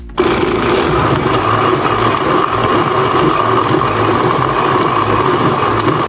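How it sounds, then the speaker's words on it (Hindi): Tamarind and plum pulp grinding in an electric grinder, a loud, steady motor whine that runs unbroken for about six seconds and then cuts off abruptly. "अब इमली और आलू बुखारा दोनों चीज़ों का जो गूदा हमारे पास है, इसे अच्छे से ग्राइंड कर लेंगे।"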